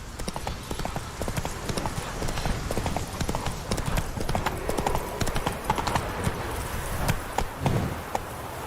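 Horse hooves clip-clop in a fast, steady galloping rhythm in The Witcher 3, continuous and close throughout, with a brief whinny-like sound near the end.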